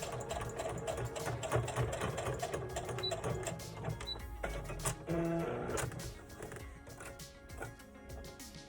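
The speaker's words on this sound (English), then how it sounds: "Now I can serge around the edges and cut this extra part off." A serger overlocks and trims the edges of fabric for a small off-the-shoulder crop top made for a ball-jointed doll, giving a dense, steady mechanical chatter that runs close and continuous throughout, with no talking.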